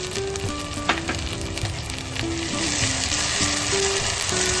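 Ginger garlic paste frying with lightly browned onions for biryani, a loud close continuous sizzle that thickens and grows steadier, with a few stirring knocks and faint background tones, no voices.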